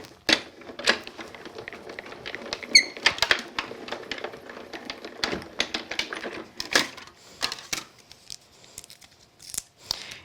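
Scissors make a quick cut while a garden scene card is crafted with tape, with sharp close snips and rustling handling in a quiet room.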